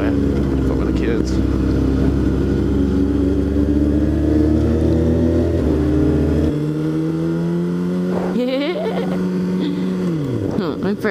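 Loud motorcycle engines roar and rev close by on a ride, with pitch climbing through gears and wind buffeting, while a rider talks over the noise.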